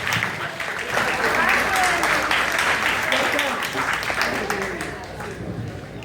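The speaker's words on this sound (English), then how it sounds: "Let's give Brandon another round of applause." A graduation audience gives sustained applause, a loud, dense crowd of clapping hands that holds steady for several seconds and then eases slightly.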